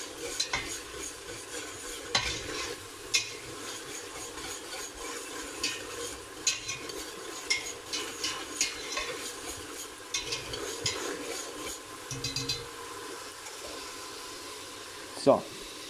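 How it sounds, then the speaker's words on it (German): A vegetable sauce with carrots for lasagna simmers quietly in a pan while a spoon stirs and scrapes in irregular strokes, soft and close, with a sharper knock near the end. "das Ganze lasse ich eben ein bisschen köcheln, dass sich das Ganze ein bisschen eindickt"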